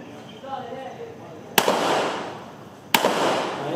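Two sharp, loud pistol shots at shooting practice, spaced about a second and a half apart, each ringing out with a long echoing tail after faint background voices.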